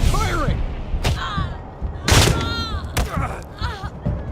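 Gunfire during Wasteland 3 combat, a few sharp loud shot bursts spaced about a second apart over a rumbling game soundscape, with chirping whistle-like effects around them.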